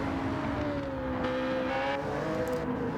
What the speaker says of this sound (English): The C4 also such a loud car.